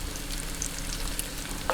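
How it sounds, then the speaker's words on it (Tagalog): Squid balls frying in a pan, cooking until light brown: a steady, close sizzle of hot oil throughout, with a brief sharper crackle near the end. "pretuhin po muna natin tong ating squid balls"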